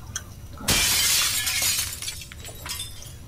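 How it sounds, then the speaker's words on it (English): A sudden crash of a mirror shattering in a video game bursts out, followed by tinkling fragments scattering and settling over the next couple of seconds. "I think a mirror broke"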